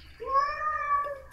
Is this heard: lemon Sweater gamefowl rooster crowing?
no